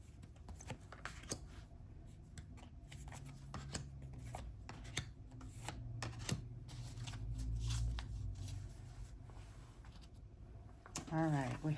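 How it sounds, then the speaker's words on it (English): Tarot cards shuffle and slide on a table in soft, close riffling and rubbing bursts, with a sharper snap of cards near the end, under quiet speech. "Let's draw some tarot cards, see what other information we can get."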